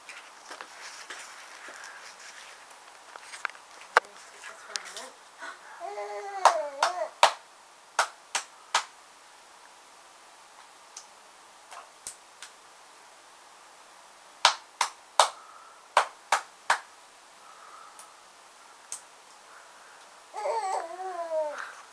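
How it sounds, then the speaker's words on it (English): A small child claps hands at home, giving a few scattered claps early and then a quick run of about five sharp claps. Babbling and squealing baby sounds come between them, and an adult voice is heard briefly. "Show people how you clap."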